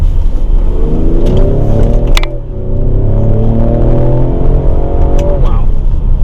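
A 2020 Ford Explorer ST engine revs hard through fast, aggressive manual shifts, pitch climbing then dropping sharply at each change, loud from inside the cabin with brief talk.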